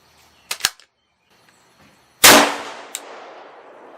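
Three rounds of HogStrike hunting ammunition fired from an AR rifle through a chronograph: two sharp cracks close together, then a louder, booming shot with a long decaying tail, followed by a faint metallic clink.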